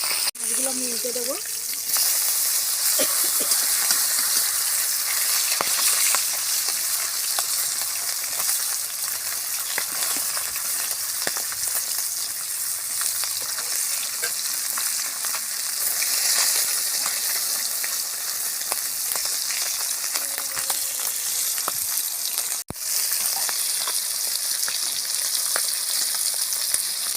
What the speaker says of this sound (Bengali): মাছগুলো ভাজা হয়ে গেছে, এবার আমি তুলে দেব।